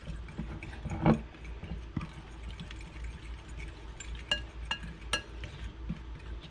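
Chile relleno filling being stirred in a bowl with a utensil, giving faint scattered clinks and scrapes with one slightly louder knock near the start, quiet overall.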